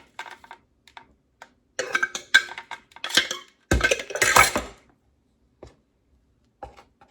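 Chocolate peanut butter brownie batter stirred in a bowl, with scattered clinks and scrapes of a utensil against the dish, building into a busier burst of mixing mid-way before tapering to a few light taps.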